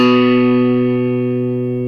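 A single electric guitar note, plucked once and left to ring, sustaining steadily with a bright harmonic tone that fades only slightly over two seconds, never picked again.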